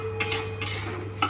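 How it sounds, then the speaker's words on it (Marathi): A metal spoon stirs and scrapes an herbal mixture being dry-roasted in a pan, with three distinct clinks spaced evenly apart over a soft, steady background hum. "हे बघा, हे असं मिश्रण एक एक करून भाजून घ्यायचं."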